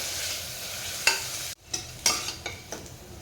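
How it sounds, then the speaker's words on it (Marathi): Onion sautéing in a pan on a low flame for chicken gravy, with a soft continuous sizzle broken by several spoon scrapes and stirring clatters, close and moderately quiet, no talk. "मंद आचेवरती छान कांदा परतून घ्या"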